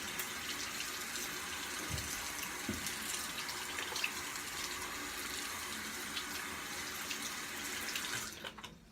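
Tap water runs steadily into a sink to rinse shaving lather from a razor, a continuous close hiss and splash that cuts off just before the end.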